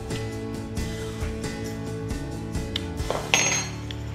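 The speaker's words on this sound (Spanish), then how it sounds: "Sin dejar de batir." A whisk clinking rhythmically against a pot while stirring champurrado made with condensed milk, with steady repeated metallic taps and scrapes at close range.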